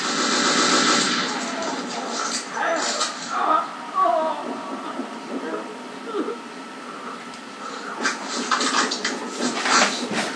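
Metro 2033 gunfire crackles in bursts through a busy, dense mix while a player's voice talks over the shooting.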